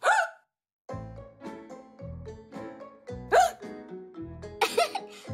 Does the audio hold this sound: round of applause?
no